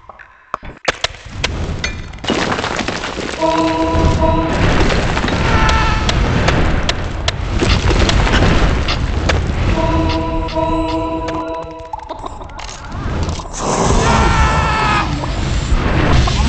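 Creature battle in the game Dungeon Keeper: a chaotic stream of booms, smashes and clinks, dense and loud, with short tonal chimes rising out of the clashes at intervals.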